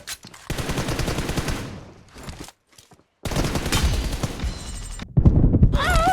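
Gunfire in PUBG Mobile strikes the ground in loud, close bursts of rapid automatic shots, broken by a brief near-silent gap before firing resumes even louder.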